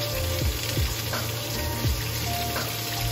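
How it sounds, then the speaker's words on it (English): Onions and vegetables sauté in a hot pan for street-style hot dogs: a steady, close sizzle and crackle, with a few clattering stirs of a utensil against the pan. "We're gonna saute our onions and vegetables till they're like brown and carameled."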